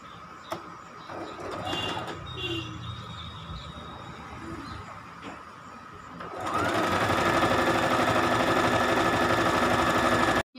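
A sewing machine stitches blouse fabric, beginning as softer intermittent whirring and settling into a loud, steady continuous run for the final seconds before stopping abruptly.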